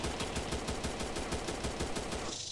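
Rapid, relentless pistol fire in the shooter game Evil Monsters, loud dense shots in a fast continuous rhythm that cuts off just before the end.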